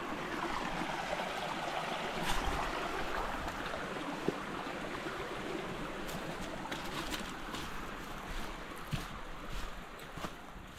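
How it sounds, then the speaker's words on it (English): Creek water flowing over rocks at a hiking trail crossing near Moonshine and Confusion Falls in Cleveland, a faint, steady rushing wash with a few soft bird calls on top. "A little more water noise on this one."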